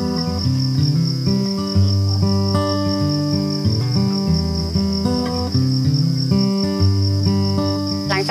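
Crickets raised on a cricket farm chirp in a dense, continuous chorus, many insects trilling close and loud with overlapping pulsing rhythms and no voices.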